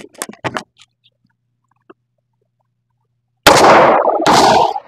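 SIG P365 pistols, including the XL and Macro, fired at a shooting range: a few faint clicks and handling sounds, a long pause, then two loud, close reports, each ringing out briefly.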